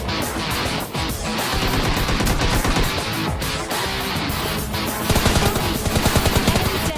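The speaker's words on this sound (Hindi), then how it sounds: "लेफ्ट साइड में एक बंदा गोली चलाता है" Rapid bursts of gunfire in PUBG Lite crackle continuously, with automatic weapon fire growing denser and more rhythmic near the end, against a busy game soundscape.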